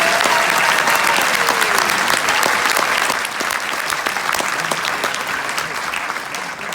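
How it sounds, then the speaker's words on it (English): Audience at a New York State Senate inauguration breaking into steady, loud applause for Chuck, dense clapping that holds for several seconds before easing slightly. "Let's give Chuck a big round of applause."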